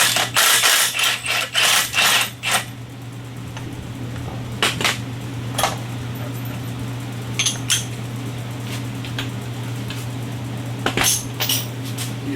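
A ratchet with a 21mm socket and extension works on the primary clutch bolt of a 2017 Polaris RZR Turbo, giving bursts of quick clicking at the start and scattered clicks later over a steady low hum, close by.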